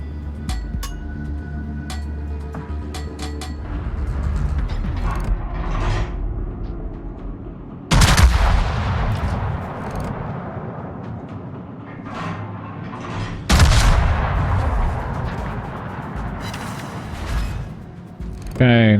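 Ipiranga ship guns firing salvos in a naval video game, two heavy booming blasts with long rumbling decay over steady battle ambience, someone talking throughout.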